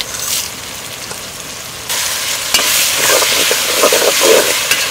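Cinnamon and masala for a homemade mutton gravy fry in hot oil with a loud, close crackling sizzle that jumps sharply in strength about two seconds in and keeps on bubbling as it is stirred.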